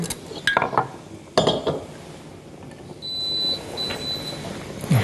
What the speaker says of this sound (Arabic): هحط لنا بس طبق ده هنا عشان يبان للكاميرا